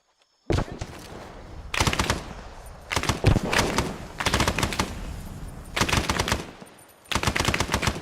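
Heavy automatic gunfire from the video game Arma 3, loud bursts of rapid shots in several long volleys separated by brief lulls, beginning after a moment of silence.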